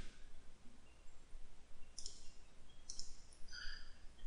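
Computer mouse clicks in a quiet room, a few crisp, faint clicks spaced about a second apart over low background hiss.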